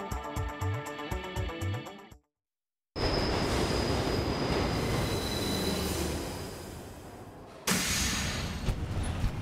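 Brief music gives way to a moment of silence, then a train rolls past with loud, sustained metallic wheel squeal and rumble, surging again near the end.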